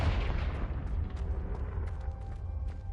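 A Confringo fire spell going off in the Hogwarts Legacy video game: a heavy, rumbling boom that bursts at once, then rolls and fades over about three seconds.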